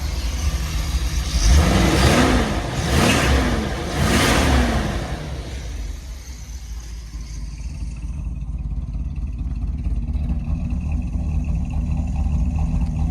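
A motorhome engine revs up three times in quick succession, then settles into a steady, low rumbling idle nearby, without any talking.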